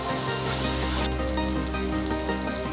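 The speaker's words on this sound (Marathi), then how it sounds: "मस्त खमंग फोडणी आपण ह्या ओल्या तुरीच्या आमटीला घातली आहे" Spice tempering crackles and sizzles continuously in hot oil up close for a Vidarbha-style fresh pigeon pea amti, a dense steady frying hiss throughout.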